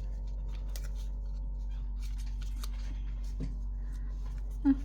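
Scissors snipping through paper for a tag envelope craft, a few quiet, close cuts over low background hum, ending with a brief louder rustle.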